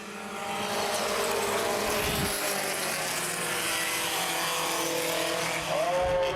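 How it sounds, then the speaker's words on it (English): Mini Stocks race cars roar at Baer Field Speedway as a heat race goes green, a loud sustained engine drone from a pack of cars, swelling and shifting as they pass. "going green here with the Mini Stocks heat race"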